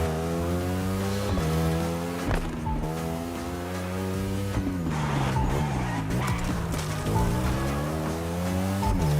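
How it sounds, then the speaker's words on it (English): Customized Lamborghini Aventador driving in The Crew Motorfest video game, a loud revving engine rising and falling through gear shifts, with brief tire squeal, no talk. "A customized Lamborghini Aventador."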